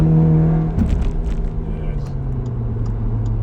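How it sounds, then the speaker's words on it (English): An Audi S3 with a resonator delete exhaust downshifting, a loud deep droning engine note that blips and rises then settles into a steady low hum, heard from inside the car. "I'll just downshift a bit, there is a resonator delete on this car and the exhaust"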